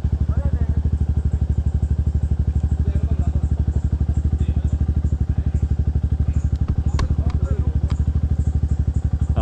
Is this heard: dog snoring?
no